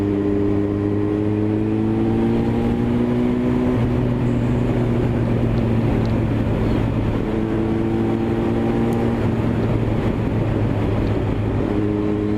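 A Honda CBR 954 motorcycle is being ridden, its engine holding a loud, steady drone throughout with gentle rises and falls in pitch as the revs shift, with no talking.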